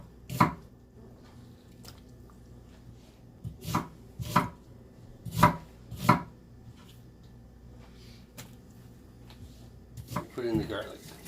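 Onions for tamales are chopped on a cutting board in several quick knife thuds, sometimes in pairs, with pauses between them and some talking heard.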